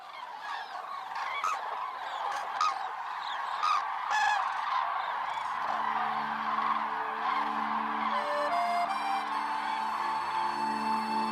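A flock of cranes leaves the Hungarian puszta on the Danube plain, making a dense chorus of trumpeting, honking calls at moderate distance. Steady sustained tones join in partway through.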